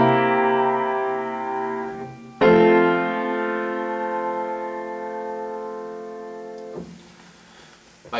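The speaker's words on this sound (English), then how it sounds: "So if I have a 2-chord progression that sounds like this," Two sustained chords ring out in turn, a dominant seventh resolving to its tonic, each held for several seconds before fading, clear and alone.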